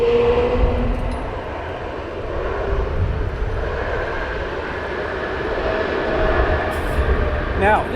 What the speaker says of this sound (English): I've just seen a Qatar A380 on the roll.